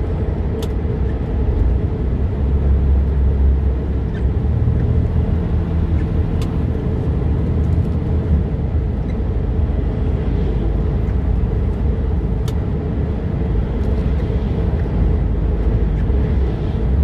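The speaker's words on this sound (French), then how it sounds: "Vous entendez les camions un peu, comment ça siffle quand vous passez devant." Constant heavy road rumble of a large vehicle in motion on the RCEA highway, steady and close, with occasional faint whistling hiss as trucks go by.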